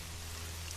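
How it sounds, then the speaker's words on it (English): Steady rain pours down in a forest of trees and underbrush, a dense, even hiss with no talk, holding constant through the short stretch. "replaced by the steady drumming of rain"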